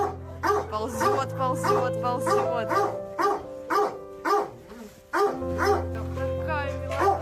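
Little Moscow Watchdog puppies whining and yipping in rapid, steady bursts close by, with adults talking softly in between the cries.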